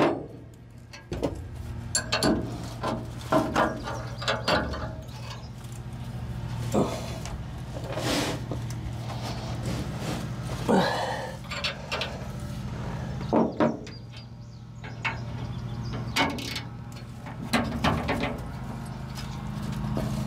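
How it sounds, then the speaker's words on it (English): A hand ratchet loosens bolts on an Allis Chalmers All Crop 66 combine, giving repeated rhythmic clicking strokes in bursts up close, with metallic knocks and a low background hum. "It's not quite enough room to get the impact driver in back here, so I'll have to use a ratchet."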